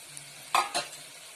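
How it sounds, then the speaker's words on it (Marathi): Potato and tomato for a ridge gourd and chana dal bhaji are stirred in a sizzling pan, two quick spoon scrapes standing out over a faint steady frying hiss. "टोमॅटो घातलं का थोडं परत परतून घ्यायचं."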